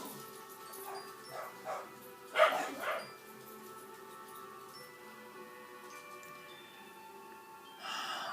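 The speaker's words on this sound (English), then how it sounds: "I apologize if you guys hear barking in the background." Dogs bark indoors in a house full of dogs, a few short muffled barks and yelps clustered in the first seconds, somewhat distant beneath a quiet room tone, with another brief burst near the end.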